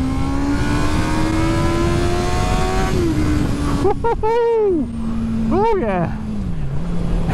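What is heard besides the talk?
Honda CB650R inline-four motorcycle engine accelerating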